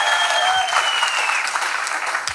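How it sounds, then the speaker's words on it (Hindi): Loud, sustained applause from an indoor audience at a motivational business talk, dense clapping continuing steadily without a break and with no speech over it. "बात अच्छी लगे तो ताली शानदार होनी चाहिए, आवाज में गड़गड़ाहट होनी चाहिए"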